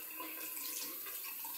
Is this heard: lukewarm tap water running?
yes